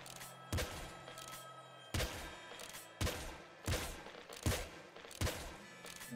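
Weapon fire from the video game Nuclear Throne comes as seven or so punchy, muffled bursts at a steady rhythm over a low game backdrop.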